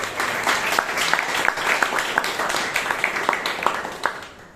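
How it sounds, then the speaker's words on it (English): An audience at a Bangalore Toastmasters meeting breaks into steady applause, a dense wash of clapping with some sharper individual claps standing out, fading near the end. "So a loud applause for both Vivek and"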